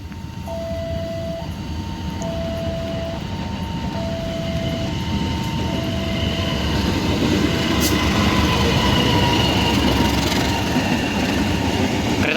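The Ranggajati passenger train, number 739, passes on the railway in Indonesia with a loud, continuous rumble of wheels and rails that swells as it nears, and repeated two-tone horn or signal beeps early on.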